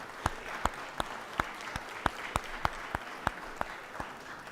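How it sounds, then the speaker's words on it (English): Clapping in a legislative chamber arrives as a single crowd's soft, fairly distant wash of hands, with a regular train of distinct sharper claps standing out about every third of a second throughout. "let's give them a big round of applause."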